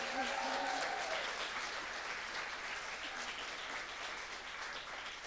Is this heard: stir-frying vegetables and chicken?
no